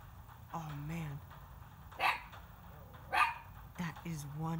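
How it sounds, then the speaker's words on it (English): Two dogs outdoors near a fence give several loud, sharp barks and yips at irregular intervals, with a voice speaking in between. "that is one ferocious bark right there."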